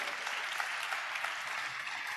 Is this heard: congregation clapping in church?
yes